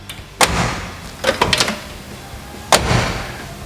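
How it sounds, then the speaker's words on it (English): A restored door on a 1972 Chevrolet El Camino SS454 thuds shut several times, solid close-range slams with a cluster of smaller latch clicks between them. "A restored door makes a close like this."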